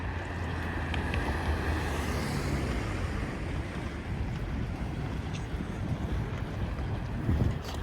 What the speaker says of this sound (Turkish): Burası tabii boş açık alan olduğu için biraz rüzgar var bu tarafta